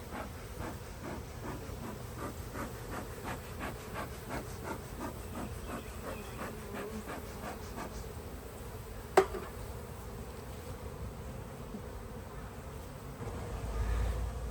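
A steady, low hum of many honeybees buzzing close by at a hive, with a faint rhythmic ticking and a single sharp click partway through.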